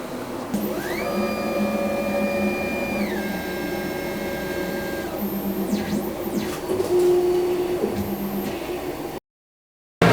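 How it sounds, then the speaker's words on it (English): A 3D resin printer runs with a motor whine that rises, holds and slides back down in stepped tones over a mechanical hum, and the sound cuts out briefly near the end. "Let's send it to the printer."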